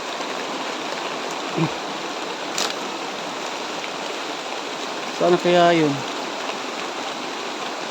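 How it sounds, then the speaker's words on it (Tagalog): Heavy rain pours steadily outdoors in a broadband hiss, with someone speaking briefly over it and a short bird-like chirp near the end. "malakas yung ulan"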